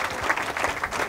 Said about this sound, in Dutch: Dames en heren, bedankt en een applaus voor Kees Kwakman